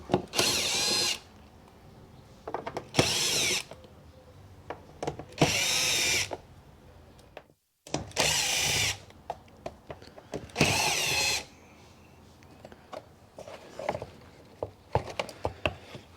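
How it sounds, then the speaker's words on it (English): A power driver undoes the Torx T25 screws on the air filter housing of a 2014 VW Passat 2.0 TDI. Five separate bursts of whirring, each about a second long, are spaced by pauses filled with faint handling noise. "Torque's 25, that's what we need to undo these screws."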